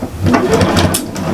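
A sewing machine runs continuously, stitching quilt pieces for a flower mat with a quarter-inch seam, a close, loud, even mechanical whir with no pauses.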